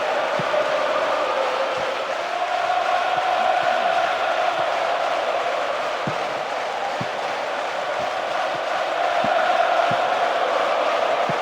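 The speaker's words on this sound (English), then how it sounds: "the crowd at fever pitch, lending so much to the spectacle. Noise level high from the start" A stadium crowd roars in the PES 2009 football video game, a constant loud wall of cheering and chanting with occasional sharp thuds, no commentary over it.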